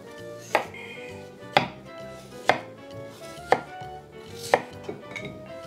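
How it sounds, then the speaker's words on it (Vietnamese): A knife cuts raw potatoes into thin slices on a cutting board, six sharp evenly spaced chops about one second apart, close and distinct with no talking. "Bây giờ mình sẽ xắt khoai thành những cái lát mỏng."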